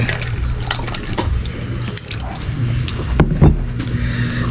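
Water is poured steadily into a container at a family meal, a close, continuous splashing with a few brighter spurts near the end.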